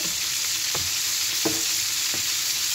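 Prawns fry in a pan, a steady close hiss of sizzling oil with a few soft stirring scrapes at regular intervals and no talking.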